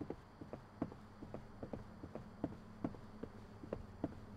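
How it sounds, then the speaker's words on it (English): Footsteps in the video game Refuted Wind, faint soft thuds repeating in an uneven walking rhythm over a low background hum, with no talk. "I thought I heard footsteps."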